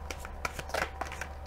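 Oracle cards shuffled in the hands, a soft, continuous riffling flutter with small crisp snaps, heard close and fairly quiet over a low steady hum, with no voice.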